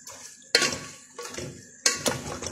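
A lid goes onto a cooking pot of chicken: three sharp metallic clanks, each trailing into a brief ringing rattle, close and fairly loud, with no talking.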